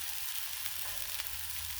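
Sirloin steaks sizzle on a Blackstone griddle, a steady hiss of frying that holds continuously without pause.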